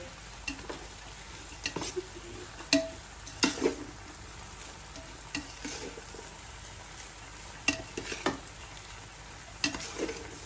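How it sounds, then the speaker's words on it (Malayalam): Boiled basmati rice is mixed into a pan of fried rice with chicken, egg and vegetables, and the spoon scrapes and taps close up in irregular clusters over a soft, continuous sizzle. "ബോയിൽ ചെയ്ത് വെച്ചിരിക്കുന്ന ബാസ്മതി റൈസ് ഓക്കേ ഇങ്ങനെ ചേർത്തിട്ട് കുറേശ്ശെ ഇലക്കി കൊടുക്കാം"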